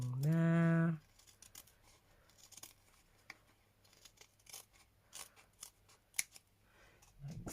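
Scissors snip and trim paper for a handmade Christmas junk journal, giving a series of quiet, close, crisp cuts and rustles. A brief hum is heard at the start.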